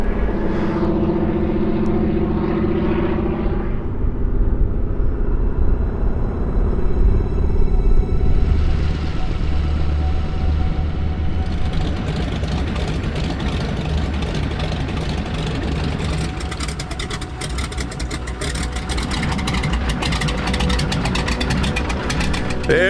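A small aircraft arrives at a remote Yukon wilderness camp, its engine droning as a steady rumble that swells and grows rougher as it draws closer and idles nearby, heard alone.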